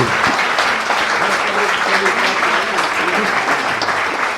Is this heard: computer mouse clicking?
no